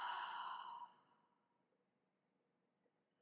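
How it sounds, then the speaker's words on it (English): A deep, breathy exhale during yoga breathing, close and soft, fades out over about a second and leaves near silence with a faint rustle at the end. "Deep breath in. And exhale, deep breath out."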